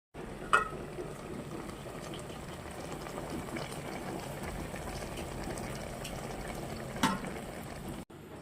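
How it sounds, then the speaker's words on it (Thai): A pot of water bubbling at a low, steady boil, quiet and continuous, with a couple of faint clinks. "หมอเขาเริ่มเดือด แล้วครับ"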